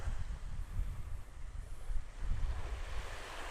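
Steady ocean surf rolls onto a beach in North Naples, Florida, a continuous wash of breaking waves mixed with rumbling wind noise on the microphone.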